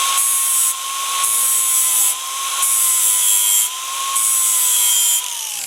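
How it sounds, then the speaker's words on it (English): An angle grinder fitted with a 40 grit wheel grinds down a weld on sheet metal for running boards, a loud steady high whine rising and dipping in several pulses as it bites into the metal. "So this is my grinder. Like I said, that's a 40 grit wheel"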